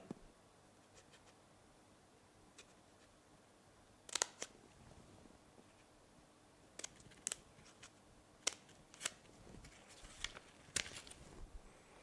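Scissors snipping through a paper corner: a few crisp, separate cuts spaced apart over quiet room tone, close and fairly faint, no talking.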